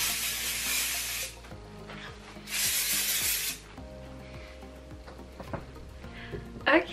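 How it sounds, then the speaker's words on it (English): Hairstyling spray misted onto hair in two bursts, each hissing for about a second, close and clear, with quiet handling noises in between. "This is my go-to hairstyling spray, so I'm just gonna spray"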